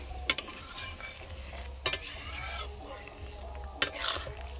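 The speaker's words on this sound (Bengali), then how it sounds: "দেখো কত সুন্দর ঝোল ফুটে গেছে।" A pan of fish and potato curry broth bubbles and sizzles close by, with soft stirring scrapes and three sharp clinks of a utensil against the pan spaced through it, and a low hum beneath.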